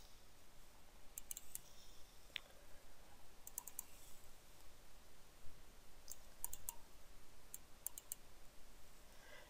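A computer mouse clicks while images are uploaded. Faint, sharp clicks come in small clusters spread across a quiet background hiss, with no speech.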